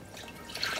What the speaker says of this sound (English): So we're going to pour milk into the pot